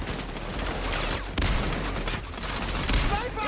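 Rapid, dense automatic gunfire from a SWAT turret in Payday 2 rattles continuously and loudly, with a voice talking over it.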